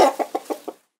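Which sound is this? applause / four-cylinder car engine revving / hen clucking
hen clucking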